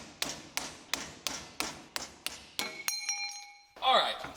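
Seven sharp metallic hammer blows strike at a steady rhythm, knocking off a metal suspension part on a Mercedes, followed by a ringing metallic tone that hangs and fades, then a brief scrape.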